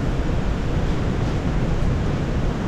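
Strong amihan wind gusting across Casapsapan beach, a loud continuous roar and buffeting of the microphone with surf mixed in, unbroken throughout.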